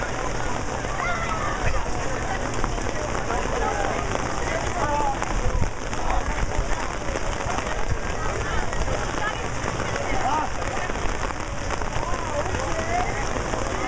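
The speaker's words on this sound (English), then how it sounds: "We seem to have a little rain tonight." Steady rain falling at night on an outdoor surface before a high school ceremony, a dense continuous hiss of drops at even loudness throughout with no voices standing out.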